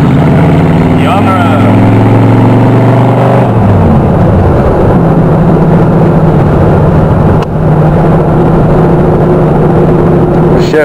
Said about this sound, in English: Ride around in Joe's Hot Rod